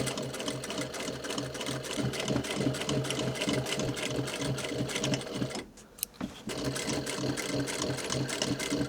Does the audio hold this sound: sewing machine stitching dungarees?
yes